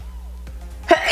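A single abrupt sneeze close to the microphone after a quiet moment, during a makeup session while wearing false lashes.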